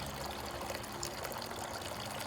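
Water trickles and pours steadily in a garden water feature, a soft continuous splashing flow that stays even and unbroken throughout.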